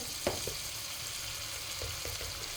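Minced meat frying with flour in a pan for yogurt soup, giving a steady, even sizzle throughout with a few soft stirring taps and scrapes, close and moderately quiet, no voices.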